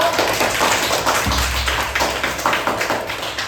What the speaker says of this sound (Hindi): तीनों मैडम के लिए तालियां बजा दो